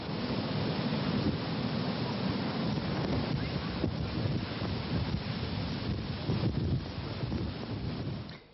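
Stormy sea with windsurfers out, heavy wind buffeting the microphone over a constant roar of breaking waves, loud and unbroken before fading at the very end.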